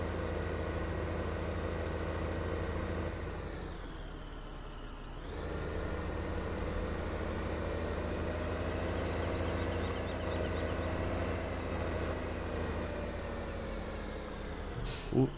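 A tractor engine in Farming Simulator 2015 idles and runs in a steady, low droning hum. It dips briefly, then settles back to a constant rumble, close and alone.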